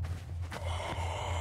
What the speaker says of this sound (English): I can hear breathing.